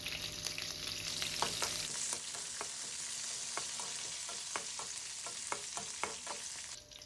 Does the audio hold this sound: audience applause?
no